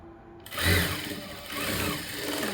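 An electric sewing machine stitches a blouse seam, starting up abruptly and whirring in a close, continuous run that surges briefly and then settles, with no voices.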